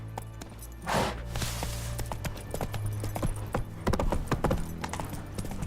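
Horse Roach clip-clops at a trot in The Witcher 3, a steady run of sharp hoofbeats close by, with no talk over it.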